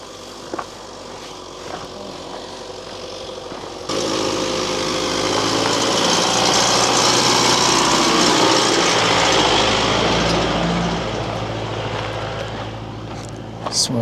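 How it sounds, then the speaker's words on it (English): A 4x4 engine climbs a mountain road near Lake Geneva, its broad roar swelling abruptly and holding loud and steady, then easing slightly toward the end. "Driving here in that 4x4 must be fun."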